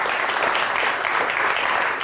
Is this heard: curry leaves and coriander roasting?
no